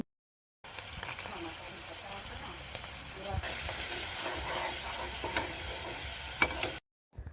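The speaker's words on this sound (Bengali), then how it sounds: "কড়াইতে পরিমাণ মতো তেল দিয়ে মশলাগুলো সব এখানে দিয়ে দিয়েছি" Whole spices fry in oil in a wok, giving a close, hissing sizzle that grows louder partway through, with a few stirring clinks near the end.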